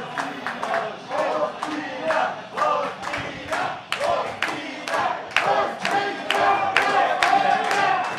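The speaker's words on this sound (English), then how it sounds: "And the crowd saying, Ospina, Ospina." A football crowd at a Colombia–England World Cup round-of-16 match chants the name of Colombia's goalkeeper Ospina in loud, rhythmic repeated bursts, a dense roar of many voices with sharp accents marking each chant.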